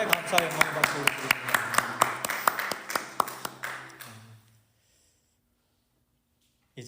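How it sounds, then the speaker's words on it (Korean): Applause in a church service, a small congregation clapping in a quick, even rhythm of sharp distinct claps that fade out after about four seconds, leaving near silence. "우리 하나님께 감사 영광 박수 드립니다."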